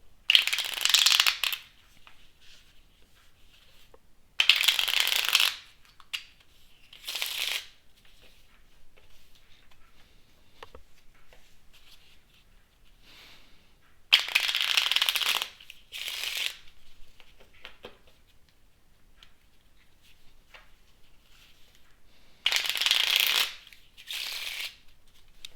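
A deck of playing cards is shuffled for a game of solitaire in several quick riffling bursts, each lasting about a second, separated by quiet pauses with faint handling sounds, close and crisp.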